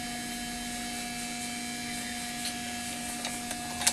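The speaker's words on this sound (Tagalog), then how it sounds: "Gamitan natin sa heat blower." A heat blower runs steadily to soften the adhesive under an Oppo A12 phone's LCD, giving a constant electric hum with a faint whine, plus a few small ticks and clicks near the end.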